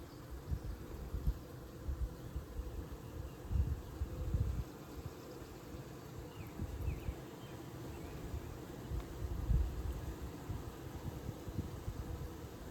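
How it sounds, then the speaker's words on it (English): Honey bees buzz around an open hive during an inspection, a continuous close drone that swells and fades in irregular waves with no speech. "There's still a lot of bees on here."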